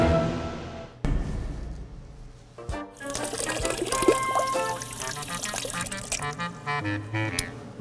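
Water pouring and trickling from a drinking fountain, a steady running stream that swells after a sharp click, close and fairly loud with no talk over it.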